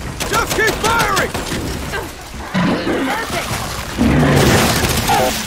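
Loud, busy battle in Gears of War 5, with gunfire and heavy booming explosions throughout, the blasts swelling toward the end, while voices shout over the din.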